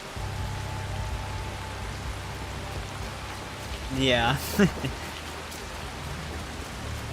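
Steady rain falls in the video game Assassin's Creed Shadows, a constant even hiss throughout, briefly overlaid by a short spoken word from a player.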